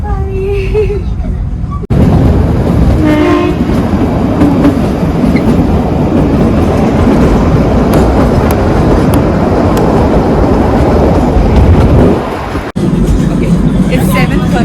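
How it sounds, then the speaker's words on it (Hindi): Vistadome coach train running at night through the hills from Shimla to Kalka in winter, a loud continuous rumble with rhythmic clickety-clack of wheels on rails, with a brief pause of quieter sound at the start and end. "इतनी रात की जब पहाड़ों में शांति में ट्रेन गुजर रही हो"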